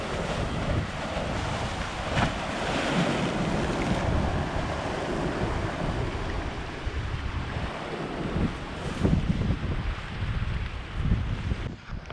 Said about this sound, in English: Look at the water come in.